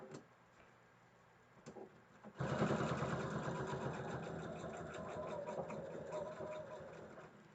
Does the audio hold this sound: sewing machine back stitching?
yes